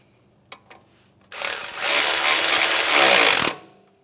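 Power tool tightening a 10mm bolt on a 2007-2013 Acura MDX strut, a loud, close rattling whir lasting about two seconds that builds, then stops abruptly, after a couple of faint clicks.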